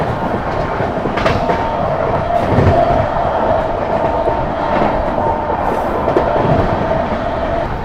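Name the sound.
Mau–Anand Vihar superfast express train running at speed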